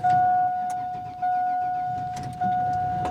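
A classic Mercury truck sits with its engine idling, warm after heat buildup, while a steady high-pitched electronic chime repeats in long tones over the low rumble, close up and fairly loud.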